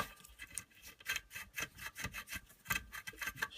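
Scraping debris out of a screw head on a country stove makes close, quiet, rhythmic rasping strokes, irregular bursts of gritty scratching repeating every half second or so.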